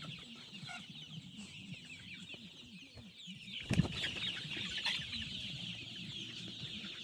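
Sonali chickens cluck on a chicken farm, with many soft, overlapping clucks at a moderate distance and one brief flap or thump partway through.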